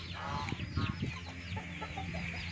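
Backyard chickens cluck and call repeatedly at close range on a home poultry farm, with a rooster-like crow mixed into steady flock chatter and no talking.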